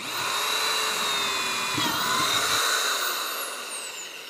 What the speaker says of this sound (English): And then we're gonna come back and drill some more here, say about like so.